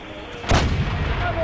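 A tank cannon fires once in the video game World of Tanks. The single loud, close boom comes in about halfway through and rolls off into a rumbling tail, with no voices.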